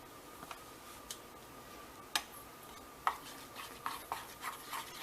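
A tablespoon of dry milk and a tablespoon of cream of wheat are mixed together for homemade dog treats. Soft, irregular ticks and scrapes of stirring are heard, faint and close.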